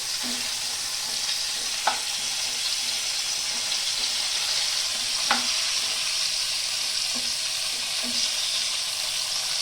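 Pointed gourd (potol) pieces fry in oil in a pan after being flipped, giving a steady close sizzle with a few sharp clinks of a spatula against the pan.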